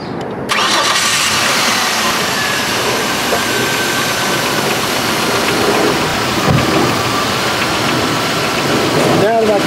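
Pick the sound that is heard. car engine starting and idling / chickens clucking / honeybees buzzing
car engine starting and idling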